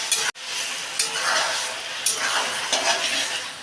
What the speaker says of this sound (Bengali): দিয়ে মশলার সঙ্গে কিন্তু আলুগুলোকে আর একটু ভেজে নিতে হবে